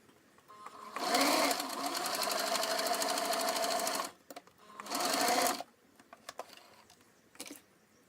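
A sewing machine stitching the side seam of a fabric pouch runs in a steady, fast, close whir for about three seconds, pauses, then runs again in a shorter burst, followed by faint handling clicks.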